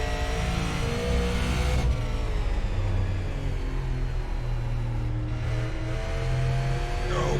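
Engine of a Super Late Model race car at Myrtle Beach Speedway in the iRacing sim, droning and revving steadily at close range with layered harmonics that shift pitch as the car accelerates and lifts, with no talking.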